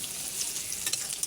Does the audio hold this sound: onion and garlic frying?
yes